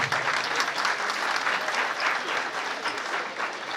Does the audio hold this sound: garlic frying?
no